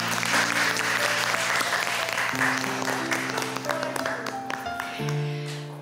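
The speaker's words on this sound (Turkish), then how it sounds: "Havacığım ve Olgacığım, sizi alkışlarla uğurluyorum." Studio audience applause on a Turkish television cooking competition show, steady dense clapping over music, holding loud throughout and fading at the end.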